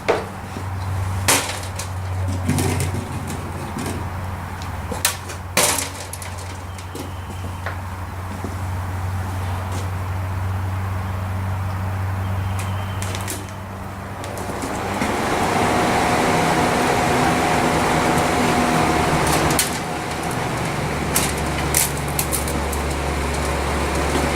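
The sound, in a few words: newly installed crate motor engine running during break-in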